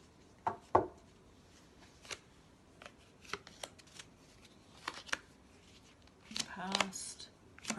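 Tarot cards are handled and shuffled on a table, with scattered crisp snaps and riffles, quiet between bursts, and a louder flurry of shuffling near the end.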